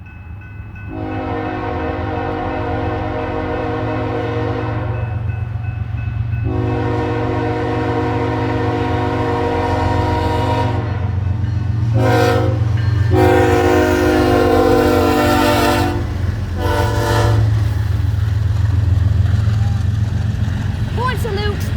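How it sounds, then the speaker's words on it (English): A BNSF freight train sounds a horn salute while passing a road crossing beside the Missouri River: long, loud, sustained horn blasts, then shorter repeated blows over a constant heavy rumble of rolling railcars, close by. "Horn salute."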